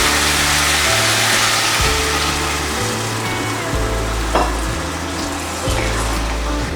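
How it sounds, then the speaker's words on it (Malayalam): Water goes into a pan of sizzling Kerala-style chicken masala, giving a loud, steady hiss and sizzle throughout with soft music underneath. "ഇനി വെള്ളം കൂടി ചേർത്ത് കൊടുക്കാം."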